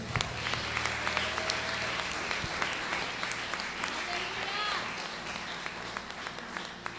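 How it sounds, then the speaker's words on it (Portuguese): Congregation applause fills a Portuguese-speaking church service, a dense, steady wash of many hands clapping that carries on throughout, with organ or keyboard tones sustained underneath. "Aplauda o Senhor."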